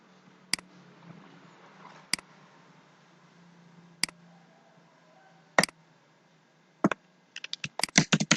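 A computer keyboard being typed on and deleted from: isolated sharp key clicks spaced a second or two apart, then a quicker cluster of taps at the end, close and fairly quiet.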